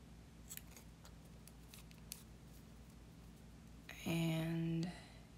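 Scissors snip a small piece off a length of lace fabric in one short, close cut near the end, after a stretch of quiet room noise with faint background sounds.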